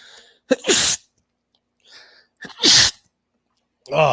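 Two sharp, loud sneezes, each preceded by a quick inhaling gasp, about two seconds apart, followed by a short burst of voice at the end.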